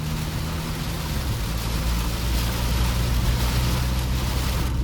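A 2026 Mahindra Scorpio N SUV engine roars loudly and steadily, its low drone shifting in pitch as it revs aggressively under acceleration, with no voices.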